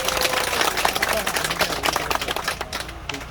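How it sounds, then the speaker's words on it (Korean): Crowd at an outdoor protest rally in front of Yesan county office applauds council members: dense, loud, sustained clapping fills the whole stretch, with scattered sharper claps standing out. "의원님들한테 큰 박수 부탁드리겠습니다"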